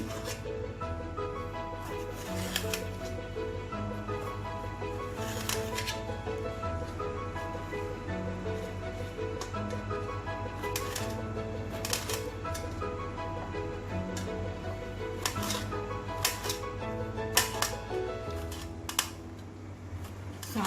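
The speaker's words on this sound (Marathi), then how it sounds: "आता हे चिरून घेऊ दोडकं याच्या फोडी करून घेऊ आपण" A knife chops ridge gourd into pieces on a board, a series of sharp, close taps in uneven bursts over a steady low hum.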